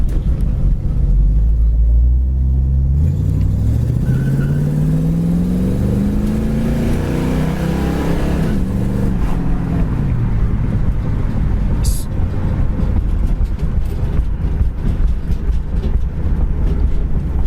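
A 1969 Ford Mustang Mach 1 with a 302 two-barrel V8 accelerates hard on kickdown, engine note rising through a gear and shifting, then settling into a loud steady cruising rumble with road noise.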